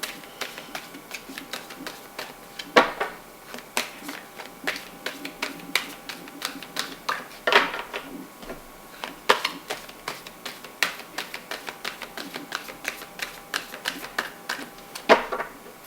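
Playing cards being shuffled back into the deck during a tarot reading, a run of close, dry taps and riffling clicks in an irregular rhythm.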